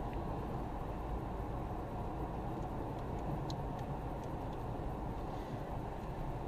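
Interior drone of a 1986 Renault 11 TXE on the move, a steady low engine and road rumble filling the cabin with faint ticks and rattles above it, no voices.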